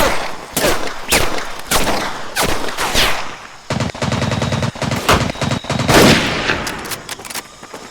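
Sniper and rifle fire in the video game Medal of Honor: Pacific Assault: loud, close gunshots crack in quick irregular bursts, with a clattering machine-gun stretch midway and battle noise all around.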